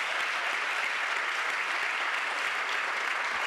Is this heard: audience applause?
yes